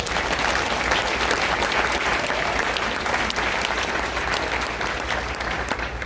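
A large crowd at a speech in Michigan applauds loudly and continuously, a thick, steady wash of clapping that holds at nearly constant strength for about six seconds and tapers only a little at the end.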